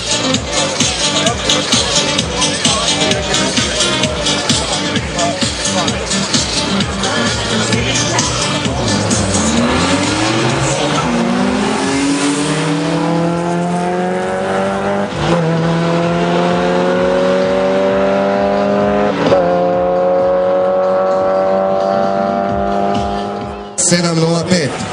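A BMW E30 and a Suzuki Alto race car launch side by side on a drag strip, engines revving hard and climbing through gears with tire squeal, loud and close, while an announcer talks over the noise.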